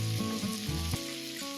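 Fennel and cumin seeds sizzle in hot oil in a pan for a Rajasthani bitter gourd dish, a steady close crackling fry heard alone and without talk.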